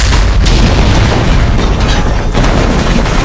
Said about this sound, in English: Now you've got a barbershop explosion.